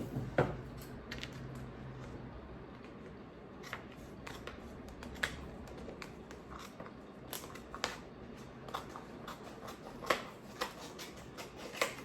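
Scissors cut vinyl: scattered crisp snips and clicks over a low steady background hum, irregularly spaced, close up, with no talking.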